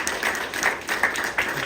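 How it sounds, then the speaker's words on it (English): Applause from an audience following a scientific talk by Stanford presenters, a short burst of scattered hand claps at moderate distance, with faint chatter mixed in. "So please give them a big hand of applause."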